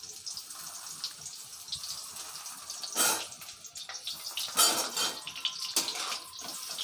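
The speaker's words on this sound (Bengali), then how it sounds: "আলুগুলো দিয়ে দিলাম, আলুগুলো ভেজে তুলে নেব।" Potatoes fry in hot oil in a clay pot, giving a continuous sizzle and crackle with stronger hissing bursts partway through. The cooking is heard close up and almost alone.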